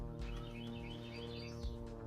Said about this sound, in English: you got a nice talkative bird